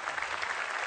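A studio audience at an Indonesian religious gathering breaks into a short, full burst of steady hand clapping.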